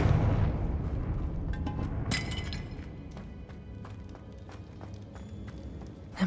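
Confringo blasting spell from the video game Hogwarts Legacy: a loud opening burst followed by a sharp crack, then scattered debris-like clicks and rumbles fading at moderate level.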